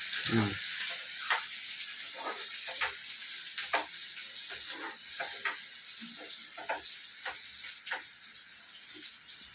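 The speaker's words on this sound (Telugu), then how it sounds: "ఉల్లిపాయ చక్కగా వేసిన తర్వాత టమాటాలు వేసేస్తాను" Tomatoes added to onions frying in a pan for a flat bean curry give a soft, steady sizzle with scattered stirring clinks and scrapes, moderately close.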